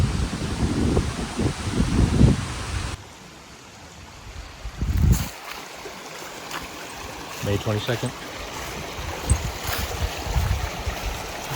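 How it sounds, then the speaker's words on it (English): Matt's Creek flows with a steady rushing, trickling sound beside a walking trail, loud close by at first and then softer. Footsteps and rustling come through, and a person speaks briefly. "Walking along Matt's Creek here."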